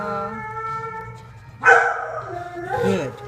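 Dogs bark and yelp at a therapy session, with a short howl-like tone giving way to two louder yips and barks, while a person talks softly close by.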